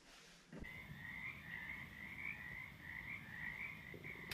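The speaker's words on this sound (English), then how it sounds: "Can you hear the frogs?" Frogs croak at Tahkenitch Lake in Oregon in a dense, continuous chorus that starts abruptly and pulses rhythmically throughout, moderately loud with no voices.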